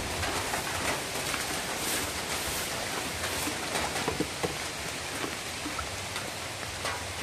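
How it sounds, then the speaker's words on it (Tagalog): Rain falling outdoors, a steady, even hiss of drops on surfaces that continues without a break, with faint bird calls now and then and no voices. "Umulan talaga."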